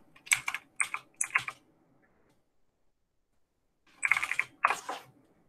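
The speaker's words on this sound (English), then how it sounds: "Type in a note." Quick bursts of computer keyboard typing as a note is entered on a sticky note, two separate clusters of crisp, close keystrokes with a silent pause between them and no talking.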